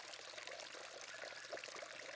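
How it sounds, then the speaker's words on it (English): Rainwater drained from barrels pours into a backyard pond during a 500-gallon water change, a faint continuous splashing trickle with small bubbling accents, steady throughout and with no talking. "I am draining all my rainwater from my barrels into the pond"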